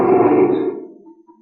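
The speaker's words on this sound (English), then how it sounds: "The king of the jungle. The lion." A single deep lion roar, loud and close, rumbling for about a second before trailing off.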